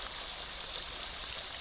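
Steady close rushing of the east branch of the Pleasant River in the 100 Mile Wilderness on the Appalachian Trail, a constant wash of moving water with no voices.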